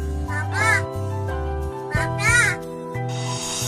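A crow gives two raspy, speech-like calls, as if mimicking human words, each rising and falling over a steady low electrical hum.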